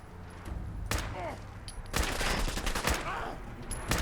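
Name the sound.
gunfire in the video game Fallout 4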